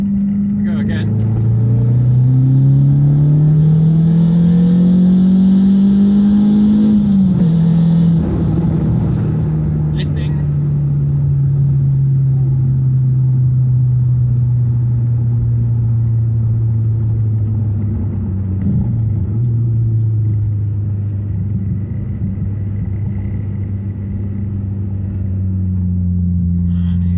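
A Renault Clio RS 172 engine drones loud and steady from inside the car, its pitch climbing under acceleration, dipping at a gear change, then climbing and settling again while someone talks over it.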